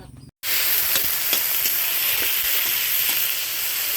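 Food hits a hot pan after a short silence and starts a loud, steady sizzle of sautéing, with faint stirring taps under the hiss.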